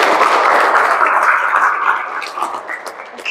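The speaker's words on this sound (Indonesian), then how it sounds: "Boleh dong tepuk tangan." Audience applause in a classroom or seminar, a dense wash of many hands clapping together, loud at first and gradually thinning and fading toward the end.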